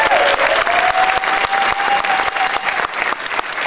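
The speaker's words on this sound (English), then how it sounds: "If we could get a round of applause for the Oshkosh team." Loud, sustained applause from a theatre audience at a film premiere, with dense clapping throughout, a brief whistle near the start and a tail that thins slightly toward the end.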